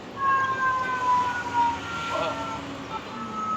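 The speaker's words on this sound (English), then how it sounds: "I'm getting a fire engine." A fire engine siren wailing outside, a steady rising and falling tone heard at moderate distance beneath background room noise for a few seconds.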